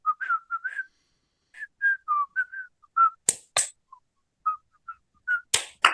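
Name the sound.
whistling imitation of the Harlem Globetrotters cartoon theme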